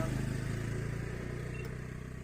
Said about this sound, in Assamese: বাইকখন যোৱালৈ ৰৈ আছোঁ